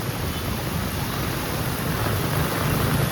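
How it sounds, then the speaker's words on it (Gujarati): Heavy rain and strong wind sweep through flooded streets in Surat, a steady loud hiss of downpour with a low rumbling undertone that swells slightly toward the end, with no voices. "પવન અત્યારે ફૂલ પવન જોરમાં આવી ગયો છે અને વરસાદ વધતો જ જાય છે"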